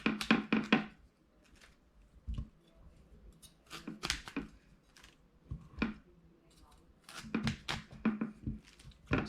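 A knife cuts through raw cauliflower on a board in short, crisp chops, clustered in quick bursts of three or four, close and clear over a quiet kitchen background.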